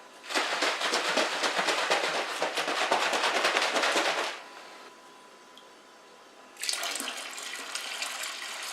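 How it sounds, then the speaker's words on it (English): Water pours steadily from a tap onto elderberries for homemade wine, a loud rushing splash that stops briefly and then starts again. "just add some water to this so that I can get all the juice out of here"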